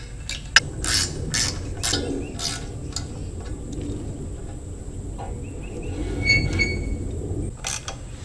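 Wrench work bolting down bearings during a boom repair on a Ditch Witch SK650 mini skid steer: a run of sharp metallic clicks and ratcheting ticks close by, spaced irregularly, with a faint steady tone behind.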